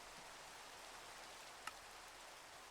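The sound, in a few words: rain in Minecraft video game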